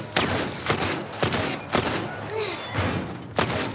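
Gunshots in The Last of Us Remake on PS5: about seven sharp, punchy shots fired at a fairly regular pace, close and loud, with faint talk between them.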